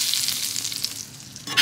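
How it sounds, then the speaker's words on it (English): Steak sizzles in hot butter and oil in a pan, a loud, close, steady crackling fry with no voices. "You could hear it sizzling because the butter and the oil is still hot."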